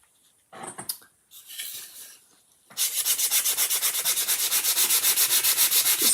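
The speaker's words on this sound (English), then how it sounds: "Just kind of lightly flattening all that wood grain." A few faint scrapes are followed by steady, rhythmic sanding of wood, the sandpaper rasping back and forth in quick, even strokes close by.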